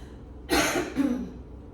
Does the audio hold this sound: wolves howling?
no